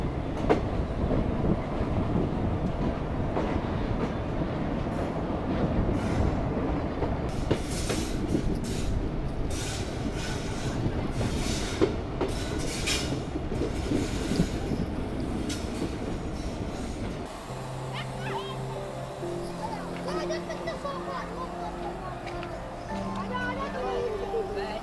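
A small three-coach passenger train in Uttar Pradesh rolls along with a loud, steady rumble and rattle of wheels on track, the tone shifting partway through as the running sound changes.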